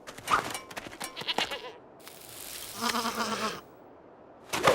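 A cartoon goat bleats loudly in a wavering, nasal cry near the middle, with animated voices talking before it and another short bleat-like burst at the end.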